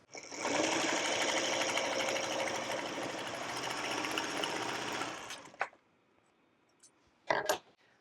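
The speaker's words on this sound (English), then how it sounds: "You can take this to the sewing machine and sew this with 1/4 of an inch." A sewing machine stitches a quilt 4-patch at a quarter-inch seam, running in a steady loud continuous whir for about five seconds before stopping, followed by a few faint clicks and small handling noises.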